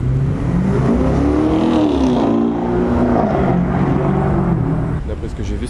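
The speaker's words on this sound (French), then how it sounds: "C'est la série 5 qui fait ce bruit là" A BMW 5 Series, not an M5, revs loudly nearby, its engine note rising and falling in a long sweeping pull while voices talk over it.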